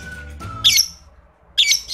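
Two sharp, shrill lovebird squawks a second apart, loud and close, with a faint tonal whistle before the first.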